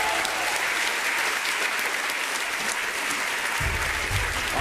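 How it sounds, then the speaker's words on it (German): Applause for the service staff at a televised cooking competition finale, dense steady clapping from a crowd that carries on throughout, with a low rumble rising near the end. "Ein Applaus als Servicepersonal."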